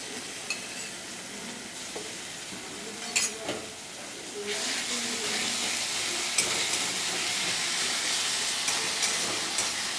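A paste of onion, chili and garlic sizzles and fries steadily in a hot pan, with stirring scrapes near the start and a louder, continuous sizzle after a few seconds.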